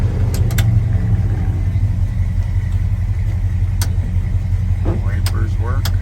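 A 1976 Ford F150 pickup idling, a steady low rumbling engine note with a few clicks and brief faint speech near the end.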